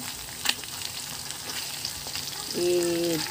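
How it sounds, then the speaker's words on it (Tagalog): Shrimp paste being stirred in a frying pan, a soft continuous sizzle with a sharp scrape early on, then a steady tone rises near the end. "At ngayon ay ilalagay natin ang ating shrimp paste. Shrimp paste ang ginamit ko dito. Tapos ay hahaluin natin."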